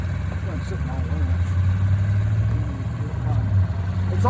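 A Honda Ruckus scooter engine runs steadily at idle while warming up, a low continuous hum that holds level throughout, with people talking over it.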